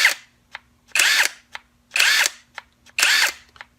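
A Seyvum 20V cordless impact wrench fires in three short, loud bursts of whirring hammering, each about a third of a second long, separated by gaps with small clicks as the trigger is pulled and released.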